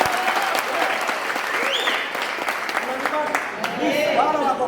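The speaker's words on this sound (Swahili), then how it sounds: "Wapi makofi ya mtumishi?" A crowd at a gathering gives a speaker a sustained burst of applause, with dense clapping continuing steadily throughout, plus a few scattered calls and voices.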